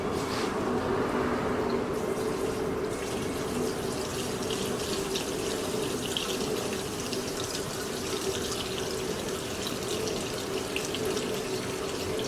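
Parts washer cleaner drains through the opened petcock of the gas tank on a 2005 Polaris Trail Blazer quad, a steady, continuous splashing stream of liquid that runs unbroken throughout with no one speaking.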